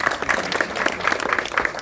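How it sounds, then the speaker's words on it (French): Applause from a crowd at a CGT union rally at the Royan train station, a steady dense patter of clapping lasting throughout, fairly near and continuous. "On peut l'applaudir, oui"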